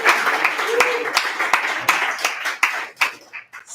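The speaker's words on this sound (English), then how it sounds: "One more round of applause for Emily August." An audience at a poetry reading in a pub setting claps for a poet, with distinct sharp handclaps that come thick at first, then thin out and scatter toward the end.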